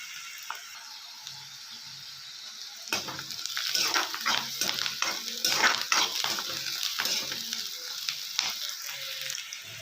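Curry leaves and chopped green chillies dropped into hot oil burst into a loud crackling sizzle that rises suddenly and keeps spitting and popping up close, after a quieter stretch of low kitchen background.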